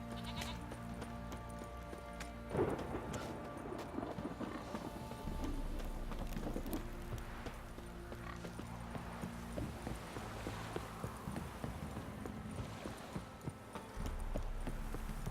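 Horse hooves clip-clop in a steady rhythm over a continuous musical background in the video game Witcher 3, with occasional louder thumps near the start.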